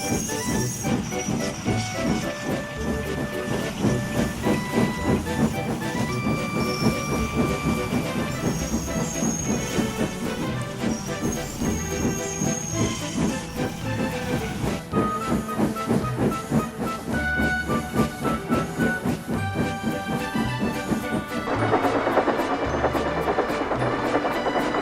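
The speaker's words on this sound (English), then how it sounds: "The guard blew his whistle and Wilbert set off" A steam engine sets off after the guard's whistle, hissing steam over a steady clatter of rolling trucks, with a shift in the noise near the end.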